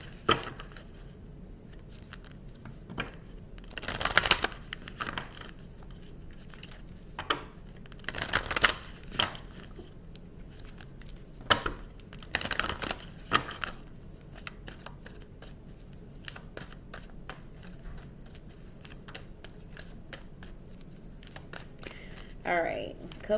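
Tarot cards are shuffled in short, soft riffling bursts separated by quiet pauses, close but faint.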